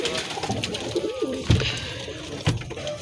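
Domestic pigeons coo close by in low, throaty rolling calls, with a couple of louder bursts at steady intervals against a faint background hum and no talk.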